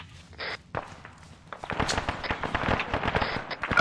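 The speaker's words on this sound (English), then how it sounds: "We got contacts in the south southern tree line firing into the compound." Enemy gunfire from a tree line in the military shooter ArmA 3, a rapid crackle of scattered shots, some sharp and close, others distant, building into dense bursts toward the end.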